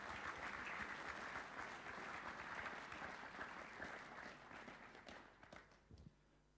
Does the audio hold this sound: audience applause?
yes